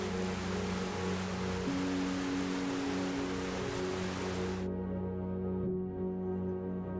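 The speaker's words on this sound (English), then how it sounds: "Kabugahay Falls is arguably the best waterfall on Siquijor Island, most famous for its tiered levels, strikingly blue water and freshwater cascades." Kabugahay Falls, a tiered freshwater waterfall on Siquijor Island, pours as a steady, loud broadband rush of water, continuous throughout with a low tonal hum running underneath and no voices.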